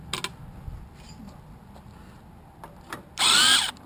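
A power drill or screwdriver removes screws from an air handler unit being scrapped for metal, with light metal clicks and handling, then one loud, close whirring burst near the end.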